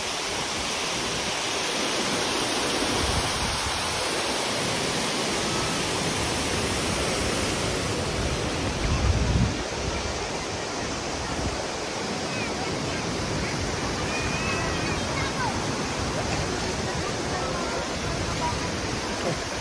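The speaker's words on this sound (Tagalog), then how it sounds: "malakas ang tubig dito." Strong river water rushes at an ecopark in Cavinti, Laguna after a typhoon, a loud, continuous roar of flowing water close by, with voices faintly beneath it.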